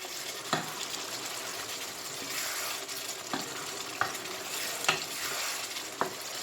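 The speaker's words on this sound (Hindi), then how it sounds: "अब यहाँ पर हम मटन को साथ साथ भूनते जाएंगे" Mutton fries with tomato and oil in a karahi over medium heat, giving a steady, close sizzle broken by several sharp scrapes and clinks of stirring.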